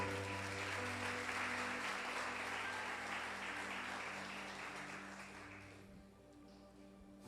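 Church congregation applauding the Lord together, a dense steady wash of clapping that fades and thins toward the end, with sustained organ or keyboard chords held underneath.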